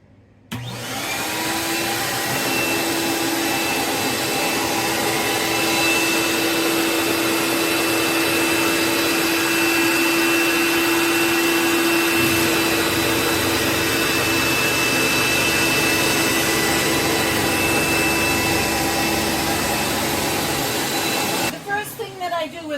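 A rug steam cleaning machine gives a loud, steady roar with a high whine, running continuously for about twenty seconds, then cuts off abruptly.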